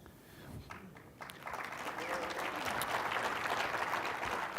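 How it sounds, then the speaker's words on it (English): A conference audience starts clapping after a quiet moment, the applause swelling into a steady, fairly distant ovation with a voice briefly heard at the start. "Let's hold the applause for the end."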